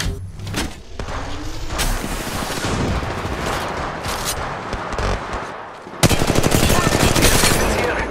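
Gunfire in the mobile battle-royale game Apex Legends Mobile, rapid automatic bursts with sharp cracks, loud and dense, briefly pausing before a heavier sustained volley near the end.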